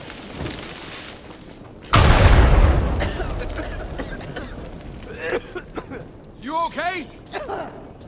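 A loud explosion in the video game Uncharted 4 booms out with a sudden broadband blast that rumbles and decays over about a second, followed by scattered clatter and a brief voice-like sound near the end.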